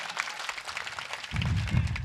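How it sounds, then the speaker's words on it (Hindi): An audience at a Hindi poetry recital applauds on cue, a loose patter of clapping that swells and thickens toward the end of the brief moment. "एक बार ताली बजाकर मुझे अनुमति दीजिए"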